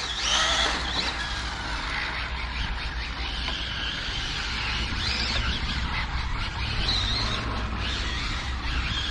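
Arrma Infraction 6S RC car drifting, making a steady loud whine and tire scrubbing that runs the whole time, close by and with no pauses.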